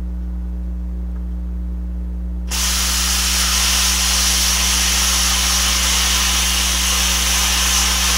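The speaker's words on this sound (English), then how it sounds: "plasma cutter is running on 110 volts, set to 25 amp and 70 psi of air, cutting 1/8 inch plate" HeroCut 45X plasma cutter on 110 volts at 25 amps and 70 psi air, cutting 1/8 inch steel plate: a loud steady hiss that starts abruptly over a constant low electrical hum, with no talk.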